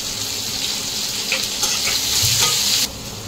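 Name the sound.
onion and chopped green chilli frying for chana dal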